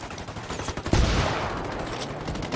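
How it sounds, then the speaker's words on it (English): A burst of rapid automatic gunfire in the tactical shooter Ghost Recon Wildlands, loud and continuous after a few opening shots, rolling on as a dense fusillade. "Opening fire."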